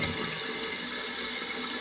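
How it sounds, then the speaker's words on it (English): A household toilet flushes after its handle is pulled: a steady, close rush of swirling water holds the whole stretch with no talking, part of a repair to a running toilet. "And so now it's just an issue of pulling the handle and flushing the toilet."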